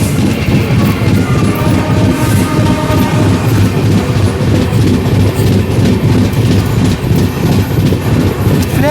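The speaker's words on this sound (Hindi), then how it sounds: "रांची गरीब रथ एक्सप्रेस सामने से आ रही है रांची गरीब रथ एक्सप्रेस।" The Ranchi Garib Rath Express rushes past at about 130 km/h, a loud, continuous roar of wheels and rolling rumble with rapid clattering from the rails throughout and no voices.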